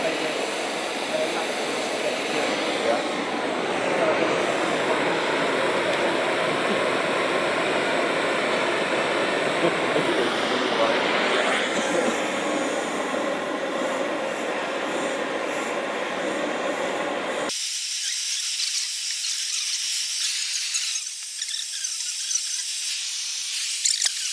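A gas torch roars with a steady broadband hiss while it heats Land Rover leaf springs, close and continuous, then cuts to a quieter hiss near the end, with voices talking over it.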